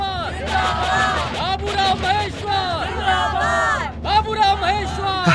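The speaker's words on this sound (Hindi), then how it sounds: "सर देखिए कितनी भीड़ इकट्ठा हुई है।" A crowd gathered in a village makes a dense, loud babble of many overlapping voices, with shouts and calls rising out of the hubbub throughout.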